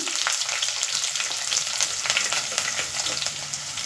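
Garlic, ginger and green chilies fry in hot oil for a carrot pickle, giving a loud, continuous close sizzle with a few stirring scrapes and no voices.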